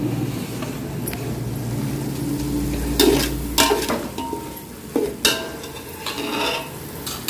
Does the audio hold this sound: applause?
no